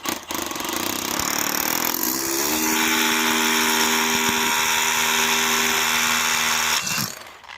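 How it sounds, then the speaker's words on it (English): A power drill bores holes during a ductless mini-split installation, its motor whine climbing in pitch after a couple of seconds, then holding a loud, steady tone before winding down near the end. "Let's drill out these holes."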